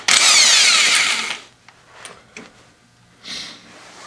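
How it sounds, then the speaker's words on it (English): A power tool whirs loudly for just over a second as it spins a flywheel bolt off a Polaris Trail Boss 350L/400L ATV using a 22mm socket, followed by scattered metallic clinks and a brief rattle of parts. "The next step is you gotta pull that flywheel bolt. 22mm socket. Pull the flywheel bolt off."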